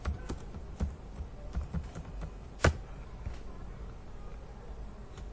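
Typing on a computer keyboard during an accounting lecture, a steady patter of light, close key taps with one louder strike near the middle, the clicks alone and fairly quiet.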